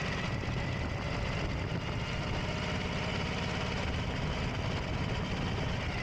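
A Harley motorcycle with a jockey hand shift and foot clutch pulls away and accelerates through its gears, a steady, loud, rumbling engine drone that continues without a break.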